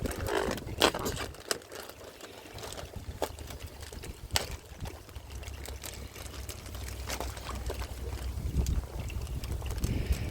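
Wind buffets the microphone outdoors beside a koi pond, a rumbling low roar with gusty swells and scattered sharp knocks and clicks over about ten seconds, with no voices.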